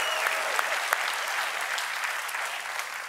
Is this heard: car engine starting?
no